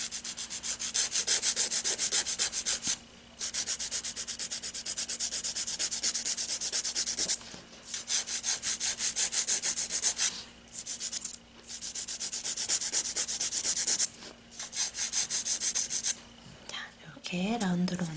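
A file shaping an artificial nail tip into a round form during a nail extension, giving steady close rasping strokes in long runs with short pauses, no talk.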